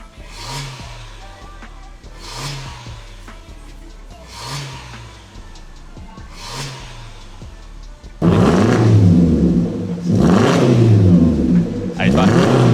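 A Suzuki Jimny fitted with a Borla catback exhaust and dual black tips revs repeatedly, about five or six rising blips at even intervals, the last few louder and fuller as if heard closer to the exhaust.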